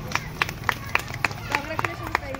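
A group of women clapping for the winner of a ladies' party game, a quick run of sharp claps over a noisy indoor room with voices chattering.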